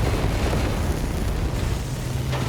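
Artillery blasts in War Robots Frontiers, a mech combat game, form a dense, continuous rumbling roar of overlapping booms, loud and heavy with strong low end, with no talking.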